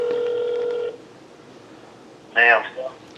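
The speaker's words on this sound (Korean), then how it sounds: "일단 제가 여기 대출업체 대표자한테 지금 전화를 걸 거예요." A telephone keypad beeps through a long held dial tone before a short burst of tones sounds as a call to a loan company is placed. There is no talking.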